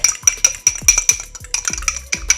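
An egg is beaten with a tablespoon of sesame oil in a bowl, giving quick, rhythmic clinks and taps of a utensil against the bowl, close and fairly loud, with no talking.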